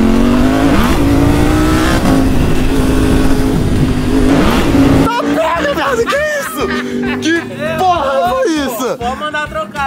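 A new motorcycle's engine holds a loud, steady high rev for about five seconds, then drops away as excited voices talk and laugh close by over a low idle.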